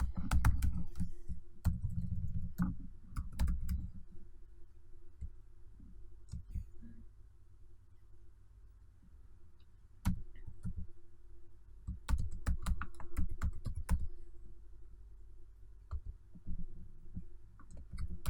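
Computer keyboard keys clatter in quick bursts while code is typed, close and fairly loud, with pauses between flurries and a low background hum.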